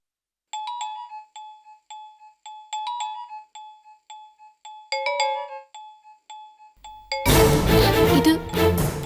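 A mobile phone rings with an incoming call, a repeating electronic ringtone of bright chiming notes in short regular bursts, moderately loud, before a loud burst of dramatic music cuts in near the end.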